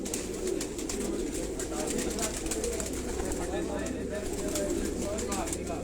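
A Black Cobra pigeon on a rooftop loft coos in a steady low murmur that runs the whole time, heard beneath someone talking and faint sharp clicks.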